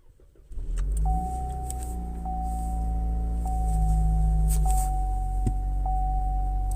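A car engine cranks and starts after a short pause, then settles into a steady, slightly rough idle with a faint tapping and a persistent whine, close by and with no talk over it.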